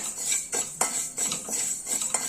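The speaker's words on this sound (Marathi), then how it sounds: "आता त्यातच टाकते मी मुगाची डाळ।" Moong dal is added to roasted wheat in a pan and stirred, giving repeated close scraping and rattling strokes of a spoon against the metal over a dry hiss.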